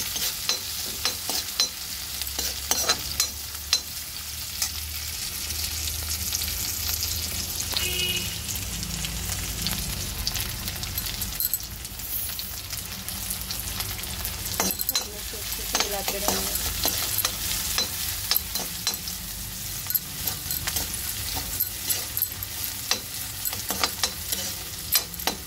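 Chopped capsicum sizzles steadily in a pan for macaroni, with frequent scraping stirs and light clinks from a spoon throughout, close and continuous, no one talking.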